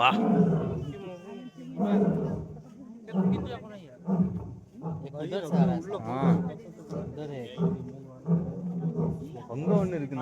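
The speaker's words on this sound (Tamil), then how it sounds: "இப்பதான் ஒரு சிங்கம் வந்து கத்துறத பாக்குறேன் நான்" A lion at Assam State Zoo lets out repeated deep, groaning roars in a slow series of bursts, while people nearby talk over and between them.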